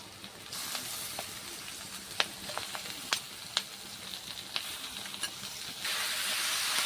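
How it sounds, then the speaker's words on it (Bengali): Chicken marinated in tomato and red chili powder fries with onion and garlic in a pan, giving a steady close sizzle with scattered sharp pops and crackles and a rising hiss near the end. "এখন আমি দিয়ে দিচ্ছি যে চিকেনটা ম্যারিনেট করে রেখেছিলাম টমেটো আর রেড চিলি পাউডার দিয়ে, ওই চিকেনটা এখন দিয়ে দিচ্ছি।"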